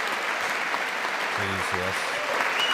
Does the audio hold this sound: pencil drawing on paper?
no